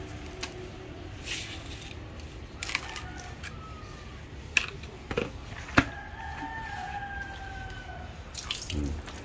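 Tap water running and splashing while tuna fish is rinsed, a steady faucet stream with clinks and drips, a rooster crowing in the background and people talking nearby.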